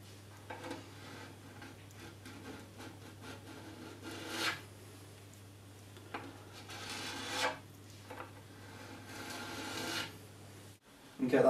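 A tool scraped along a gouge in a ski base during P-tex repair tuning, giving quiet, repeated rasping strokes with a few louder scrapes, close up and without talk.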